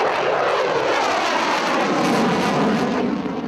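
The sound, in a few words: F-16 fighter jets taking off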